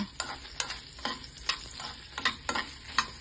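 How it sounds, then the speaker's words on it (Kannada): Onion, garlic and dried red chillies fry in about three spoons of oil in a pan, giving a continuous close sizzle broken by regular stirring scrapes about twice a second. "ಈಗ ಫಸ್ಟು ಈರುಳ್ಳಿ, ಬೆಳ್ಳುಳ್ಳಿ, ಒಣಮೆಣಸಿನ್ಕಾಯಿ ಹಾಕ್ಕೊಳ್ಳೋಣ. ಫ್ರೈ ಮಾಡ್ಕೊಳ್ಳೋಣ."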